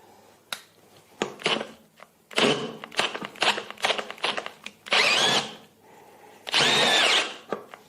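A power drill with a 25 mm spade bit whirs in short bursts, then bores steadily in two longer runs, close up, with clicks and knocks between them.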